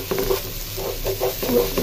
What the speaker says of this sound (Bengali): পোলার চালটা দেখি ভাজা ভাজা করছি কিনা।